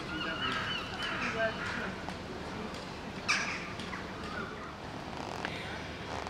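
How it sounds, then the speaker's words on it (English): Gulls call repeatedly at a distance, honking and squawking over a steady outdoor background near a big bridge, with a person speaking briefly. "You can probably hear all the gulls."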